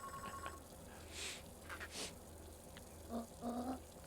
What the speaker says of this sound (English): she's making a phone call again